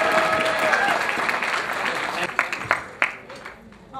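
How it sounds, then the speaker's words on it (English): Guests applaud at a wedding reception during friends' speeches, a dense round of clapping that fades out over the final seconds into scattered claps, with faint voices underneath. "All right, let's get one more round of applause for Devin."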